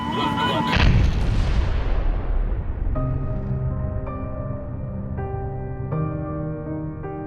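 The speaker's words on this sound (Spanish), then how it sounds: "La colisión desencadenó una enorme explosión seguida de un incendio de grandes proporciones" A loud booming blast from an airliner crash, China Airlines Flight 676, at the start, rumbling and fading over a few seconds, followed by steady tonal droning like sirens or alarms.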